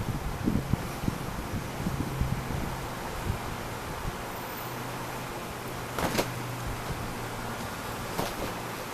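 Steady wind blowing outdoors by a pool with palm trees, broadband rushing noise and occasional gusts buffeting the microphone, no voices.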